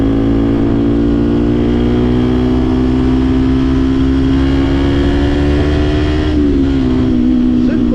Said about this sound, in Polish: To wydech głośny.